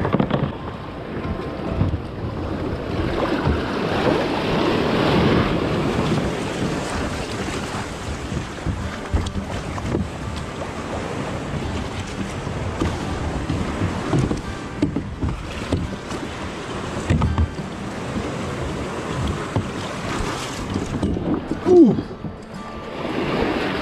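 Sea water breaks and rushes around a kayak near a beach in São Vicente, with sustained wind buffeting the microphone and sloshing surges throughout.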